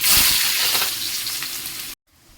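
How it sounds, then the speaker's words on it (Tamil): Mustard seeds and onion sizzle loudly in hot oil for a fish curry, a dense steady crackle that fades a little and then cuts out abruptly, with a faint hiss returning at the end. "எண்ணெய் ஊற்றியாச்சு கடுகு வெங்காயம் போட்டுருவோம்"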